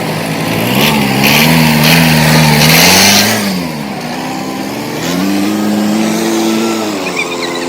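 A Farmtrac tractor engine revs up and down in loud surges, its pitch climbing and falling, close and steady with no voices.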